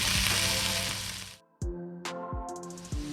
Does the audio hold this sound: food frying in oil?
yes